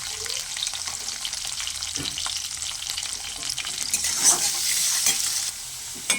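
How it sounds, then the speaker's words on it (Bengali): Potatoes seasoned with salt and turmeric fry in mustard oil, giving a continuous crackling sizzle broken by scraping and stirring strokes in the pan, close and fairly loud, with no talking. "এবার আমি আলুগুলো ভেজে নেব।"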